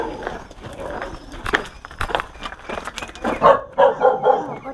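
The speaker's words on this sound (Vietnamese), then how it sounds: "Có chó." A large dog barks outdoors in a rural village in Ha Giang, a handful of short, irregular barks at moderate distance amid rustling and scattered background noise.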